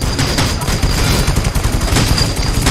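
Rapid gunfire from the mobile battle royale game Rules of Survival, a dense continuous burst of shots and impacts filling the whole stretch at close, loud level with no talk over it.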